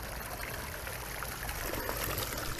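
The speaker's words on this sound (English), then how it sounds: "Real nice waterfall." A small waterfall in a garden water feature with a pond, a constant close splashing and trickling rush of water that holds steady from start to finish with no voices.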